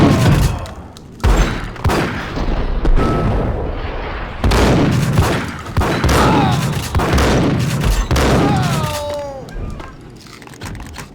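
Heavy gunfire in the 2001 Max Payne game, a string of loud, close blasts and booming impacts at irregular intervals, with echoing tails and a few shrill whistling tones between shots.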